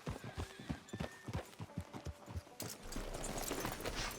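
Horse hooves clip-clop in a steady, even rhythm, fairly quiet, with a brief whinny and faint background ambience joining toward the end, from the video game Red Dead Redemption 2.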